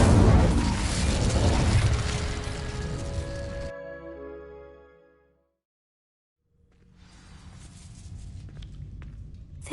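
The Incendio fire spell ignites dry vines in Hogwarts Legacy, a loud whooshing burst of crackling flame that fades into near silence before a softer rumbling ambience swells back.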